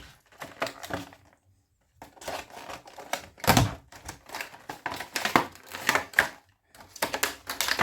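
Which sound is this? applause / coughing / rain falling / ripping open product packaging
ripping open product packaging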